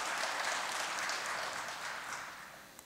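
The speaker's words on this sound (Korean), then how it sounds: "두 분께 우리 박수 한번 보내 주십시오" Audience applause for a couple introduced at a Korean church reading session, a steady wash of many hands clapping from start to finish, slowly fading toward the end.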